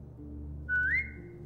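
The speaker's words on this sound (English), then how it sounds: "Now whistle and tell her to lie down." A single short, rising then level whistle calls a dog in The Walking Dead video game, clear and close over a low, steady background hum.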